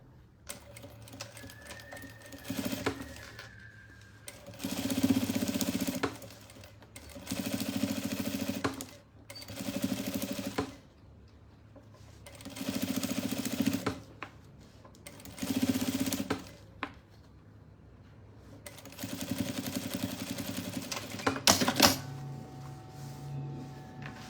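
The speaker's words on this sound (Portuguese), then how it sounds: "E vou vir aqui com um pezinho de máquina. E vou fazer a costura." A sewing machine stitching patchwork for a zippered pouch, running in several separate bursts of a few seconds each with short pauses between, close and clear, with no talking.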